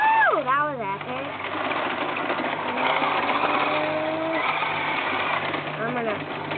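Remote control drift cars whining at high pitch as their motors rev and swoop through slides, close and continuous, with people talking and cheering over the buzzing.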